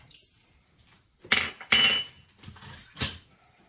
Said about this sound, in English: Just give that a quick mix just to dissolve the salt.